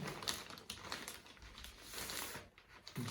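Soft crinkling and rustling of a plastic ziplock bag holding instructions and a packing list, taken from the box of a Huawei SUN2000-10KTL-M1 inverter; faint, close, irregular handling sounds with small bursts.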